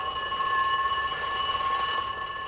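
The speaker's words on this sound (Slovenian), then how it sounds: "Hiter pritisk na alarmni zvonec" Fire station alarm bell rings continuously and loudly in a cartoon firehouse, a steady metallic ringing tone with no breaks and no talking.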